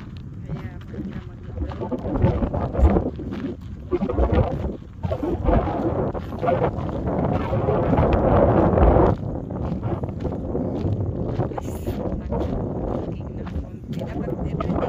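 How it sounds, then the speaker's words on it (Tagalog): Outdoor wind gusts buffet the microphone during a walk with dogs, producing an uneven low rumble that rises and falls under steady conversation. "Sarap ng hangin."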